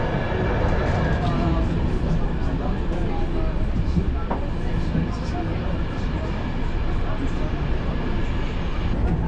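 Passenger train on a roughly 30-hour journey across eastern Turkey toward Tatvan and Lake Van: a steady, loud rumble from inside the carriage, with constant rolling noise and faint rattles throughout, and no clear talk.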